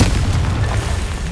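A Confringo blasting spell detonates in Hogwarts Legacy, a loud, close, deep boom with a rumbling tail that fades over about a second, heard alone.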